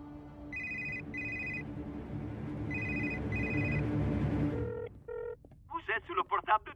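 A mobile phone in an animated cartoon rings in two pairs of electronic trilling tones over background noise, followed by a short voice-like beep and chirping electronic sounds.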